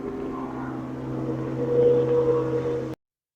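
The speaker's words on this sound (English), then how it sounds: "You hear that bass boat taking off?" A bass boat motor hums steadily and swells louder as it revs and pulls away on Monroe Lake, then cuts off abruptly.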